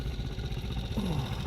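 A Triumph motorcycle passing outside a moving car, its mid-pitched engine drone rising briefly near the end, faint under the car's own road noise.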